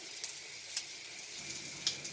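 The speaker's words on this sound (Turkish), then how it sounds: "Orta ateşte kızartın." İnegöl meatballs fry over medium heat in a pan, giving a steady close sizzle with a few sharper crackles and pops spread through it.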